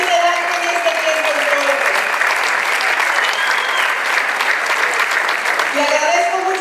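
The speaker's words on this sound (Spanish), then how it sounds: "Un aplauso al comisario de Vidal por su liderazgo en este tiempo." Audience applause at a centennial celebration of a Mexican ejido, a dense, steady wash of clapping and crowd noise that fills the whole stretch, with a brass band's sustained notes faintly sounding at the start and end.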